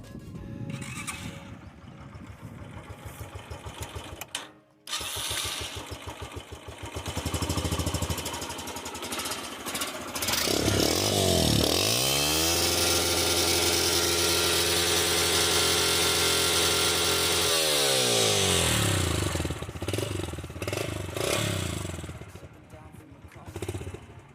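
A Yamaha YBR motorcycle engine idles, then revs up and holds a high, steady drone for several seconds before dropping back, with some talk early on.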